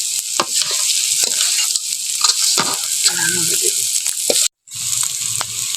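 Quail meat frying in a hot pan, a loud steady sizzle with scraping stirs and utensil knocks, briefly cut to silence near the end before the frying resumes, no speech.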